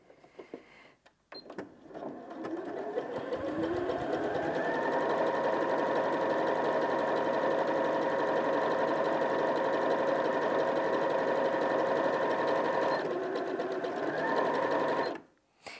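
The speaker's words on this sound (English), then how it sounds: "We'll sew out a zigzag stitch, which is either number 6 or number 7" A Janome 5060 QDC sewing machine sews a zigzag stitch, a loud, close, continuous motorized whir that starts after a couple of seconds, holds evenly for about eleven seconds and then cuts off.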